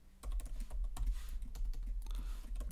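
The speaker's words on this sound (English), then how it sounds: "We're going to type in print" Code being typed on a computer keyboard for a SwiftUI login screen, a close, busy run of rapid keystrokes with occasional heavier thumps, no voice.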